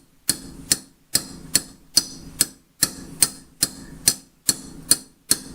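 Hammer blows striking a piece during a Scout vise restoration, sharp metallic taps coming in quick pairs at a steady rhythm, close and clear, with no talk.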